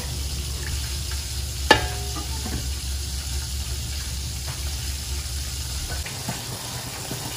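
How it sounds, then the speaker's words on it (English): Sweet and sour sauce with fried tilapia simmering in a pan, a low steady bubbling hiss under a constant low hum, with one sharp clink early on. "we're just gonna let it simmer for about 5 to 8 minutes"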